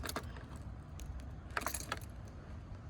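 A car key fob and its keys being handled, with light metallic jangles and small clicks coming in short bursts close up against a quiet background.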